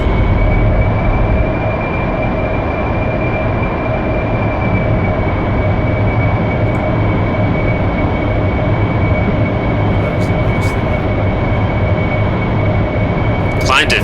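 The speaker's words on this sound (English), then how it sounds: "Now increase throttle and take off." Aircraft engine on the runway in the flight simulator DCS World, a loud steady low roar with a sustained whine held through the takeoff run, close and unbroken.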